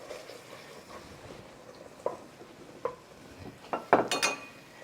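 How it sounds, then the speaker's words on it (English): Spoon scrapes and clinks against a pot while stock is stirred into a dark gumbo roux, a few soft stirring strokes and then sharper metallic knocks near the end. "we're going to now start adding some of that to our pot and just get that stirred in"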